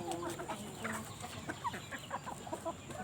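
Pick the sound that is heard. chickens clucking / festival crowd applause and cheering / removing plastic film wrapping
chickens clucking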